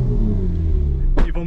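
A Ferrari 458 engine idles with a deep, loud, steady rumble close by, then a brief sharp blip of revs breaks in near the end.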